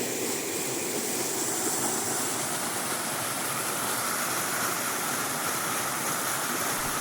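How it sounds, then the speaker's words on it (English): A trio of mountain waterfalls in winter rushes in a constant, full roar of falling water, steady and fairly close, with no talking over it. "that trio of waterfalls is still beautiful"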